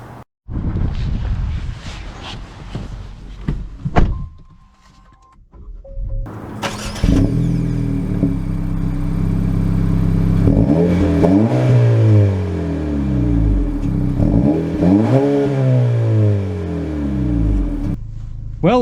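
A 2024 Acura Integra A-Spec with a manual gearbox starts up and then accelerates hard through the gears, loud rising engine revs that drop at each shift and climb again, with wind noise and no talking.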